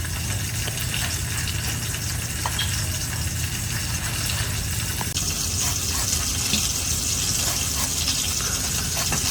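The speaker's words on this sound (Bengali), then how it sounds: "মাছগুলো তো এদিক দিয়ে ভাজি হইতেছে" Hilsa fish sizzle in hot oil in a pan, a continuous loud crackling hiss with scattered pops, steady throughout and close by, with no voices.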